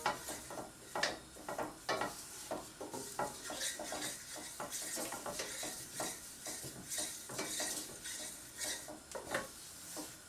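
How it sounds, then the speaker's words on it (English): Food stirred in a pan on the stove, a busy run of close utensil scrapes, clinks and taps against the metal over a low sizzle, repeating steadily throughout with no voices. "So we're just going to continue stirring."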